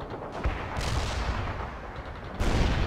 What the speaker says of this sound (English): Launch those grenades!